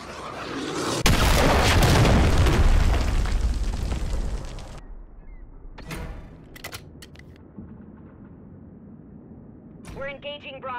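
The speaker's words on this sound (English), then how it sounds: "Hostiles launched a cruise missile." Cruise missile blasts in a Call of Duty multiplayer match: a loud, sustained explosive roar for several seconds that cuts off abruptly, followed by sharp gunfire cracks and faint in-game radio chatter.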